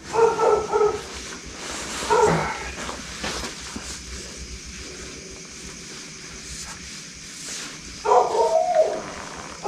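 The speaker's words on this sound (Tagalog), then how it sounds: "Ingin ng aso ah." A dog barks in short bursts near the start, around two seconds and again near eight seconds, with whimpering yips, heard outdoors at night in a cemetery over a low background.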